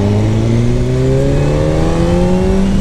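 A new motorcycle accelerating hard, its engine note climbing steadily in pitch through the gears, loud and close throughout with a steady roar and no talking.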